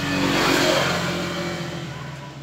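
A 1998 Honda TMX155 motorcycle engine, freshly overhauled, noisy and converted to CDI ignition, revs loudly up close, then the roar slowly eases down.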